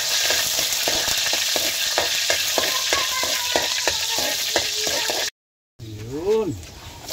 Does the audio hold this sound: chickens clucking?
no